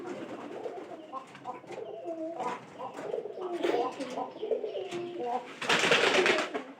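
Pigeons in a loft, among them a red pigeon, giving repeated soft throaty coos at close range, with brief wing flutters and a louder burst of flapping near the end.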